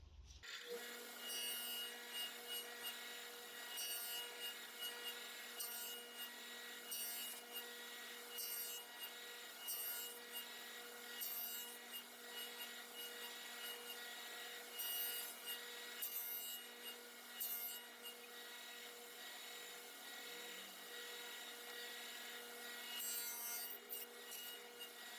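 A dado blade clears wood from the middle of a cut with a steady whining drone broken by repeated rasping, grinding bursts, fairly faint and without talk throughout.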